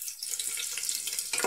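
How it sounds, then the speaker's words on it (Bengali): Onions and green chillies frying in hot oil in a pan for a Bengali-style mixed vegetable dish, giving a steady soft sizzle with a watery hiss and a brief louder burst near the end, no voices. "এর মধ্যে পেঁয়াজ আর লঙ্কা আমি লাল করে নেব।"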